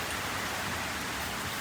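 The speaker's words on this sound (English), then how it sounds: "it's raining pretty heavily" Heavy rain pours steadily at night outside in cold weather, a dense, unbroken hiss that stays loud and even throughout with no voices.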